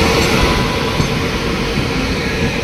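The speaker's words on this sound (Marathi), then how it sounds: "ट्रेन आता अंजनीला आलेली आहे" A Diva–Sawantwadi passenger train pulls into Anjani station, heard from inside an economy coach as a steady, close rumble of wheels and carriage noise with no clear breaks.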